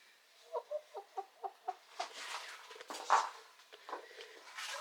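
A barred rock chicken settling into its coop at bedtime gives a quick series of soft, evenly spaced clucks, then a louder, more irregular burst of clucking and squawks, heard close up in a quiet setting.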